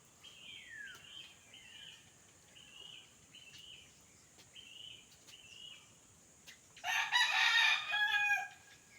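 Several short, faint chicken calls repeat in a loose rhythm, then a rooster crows loudly and nearby near the end, against a quiet outdoor backdrop.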